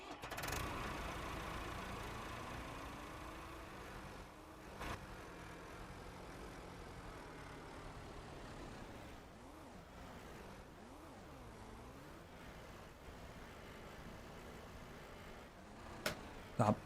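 A tractor and harvester engine runs in Ranch Simulator, a steady mid-pitched drone with wavering tones in the middle and a few sharp clunks near the end.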